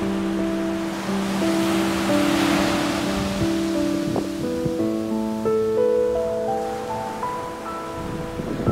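Ocean surf rolling in where a freshwater river meets the sea on a California beach with patches of round stones, a constant broad wash of waves beneath sustained tonal music.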